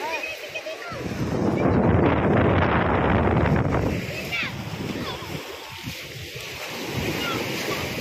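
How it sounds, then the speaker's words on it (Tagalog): Strong sea current and surf churn around a pukot fishing net haul for anchovies, a loud rushing wash with splashes and gusty wind buffeting the microphone, while people talk over it. "Lakas ng agos."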